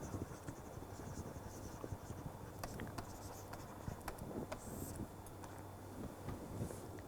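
Pen or chalk writing out momentum equations during a lecture on 3D turbulent boundary layers: steady scratching and tapping strokes over a constant room hum, irregular ticks through the whole stretch.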